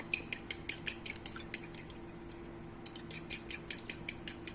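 Omelette eggs with pepper powder and salt are whisked in a bowl with a fork. Light, rhythmic metallic clinks come in two quick bursts separated by a short pause, close and fairly quiet.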